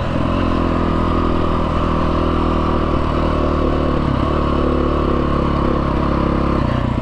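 A Husky TE310R dirt bike rides on a dirt trail, its engine a loud, steady close drone with slight revving and clatter throughout.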